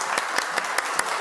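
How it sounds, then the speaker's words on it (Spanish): Audience at a family magic show claps in a brief burst, a few distinct rhythmic claps at an even pace standing out over a softer background patter. "a ver un aplauso más fuerte"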